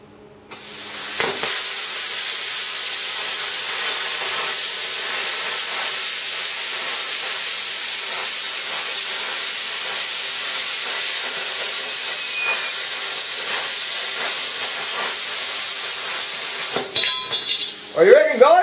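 A DIY magnetic-guided plasma cutter slices through metal with a loud, continuous roaring hiss that starts sharply and runs steadily before cutting off, followed by brief clatter.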